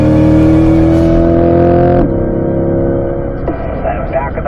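A car accelerates flat out down the straight of a race track, its engine a loud, steady, close drone that drops in pitch and intensity partway through.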